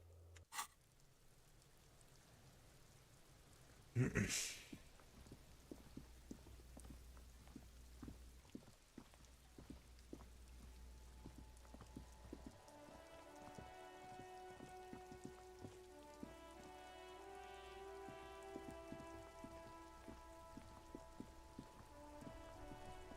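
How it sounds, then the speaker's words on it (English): Steady rain patters throughout in the game Disco Elysium, with a sharp burst near the start and a soft tonal melody fading in under the downpour later on. "It's raining again."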